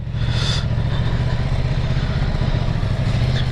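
A Ducati Multistrada 950 motorcycle engine runs close and loud, a steady low throbbing drone with no talk.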